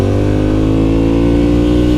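A 2009 Ducati Monster 1100 being ridden holds a loud, close engine drone with strong steady harmonics that rise slightly as it revs, and no talk.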